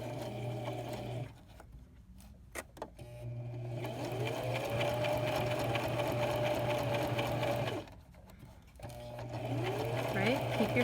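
A sewing machine stitches fabric for a fitted face mask in close, steady whirring runs, broken by two short pauses between bursts.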